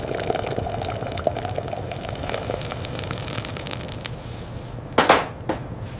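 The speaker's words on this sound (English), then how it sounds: "A technician pours molten gold into a graphite mold, a dangerous, spectacular, and transformative act." Molten gold poured by a technician into a graphite mold at a 24K gold bar factory, a steady hissing, crackling roar throughout with a few sharp louder bursts near the end.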